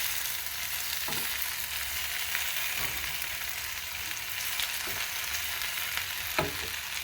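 Breakfast potatoes with red and green peppers frying in a skillet, a continuous hiss and sizzle broken by occasional spoon scrapes as they are tossed together, no voices.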